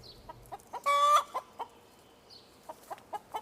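Backyard hens from a rented chicken coop cluck in short, scattered bursts, with one longer, louder squawk near the start, then soft, close, irregular clucks over a quiet background and no talk.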